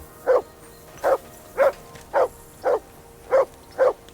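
A dog in Kingdom Come: Deliverance II barks seven times in an even, steady rhythm, each bark short and clear against a quiet background.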